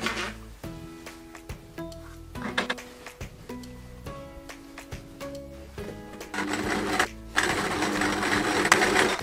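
A sewing machine stitches together the two halves of a whirlwind patchwork quilt square, running in several short bursts of rapid whirring with brief pauses, then a longer, louder continuous run near the end.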